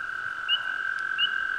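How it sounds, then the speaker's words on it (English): Pickerel frog calling outdoors: a soft, steady snoring trill held throughout, with two brief higher chirps from other calls, fairly faint and alone without voices. "I just heard it's a pickeral frog."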